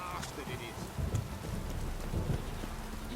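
Heavy rain in The Witcher 3: Wild Hunt pours steadily with a low rumble beneath, swelling in intensity after the first second; no voices are heard.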